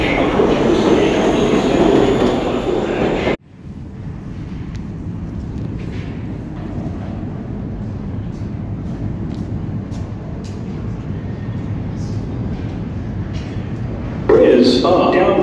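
A loud New York subway R62A 6 train rumbles in and roars steadily, with a sharp drop in noise partway through, then a muffled platform announcement near the end.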